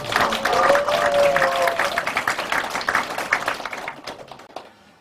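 Audience applause at a Goyang city eco-friendly farming policy forum, a loud sustained burst of clapping that thins into scattered claps and dies away, with a brief voice at the start.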